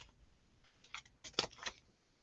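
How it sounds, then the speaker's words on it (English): Scissors snipping through folded paper while cutting a snowflake, a few short crisp cuts clustered close together, near and fairly quiet with no talking. "You can hear my scissors."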